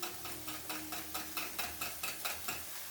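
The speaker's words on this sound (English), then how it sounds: "I have to very carefully stir this" Kissel being stirred in a pot, a steady repeating scrape about every quarter second, close and moderately quiet, with a faint simmering hiss between strokes.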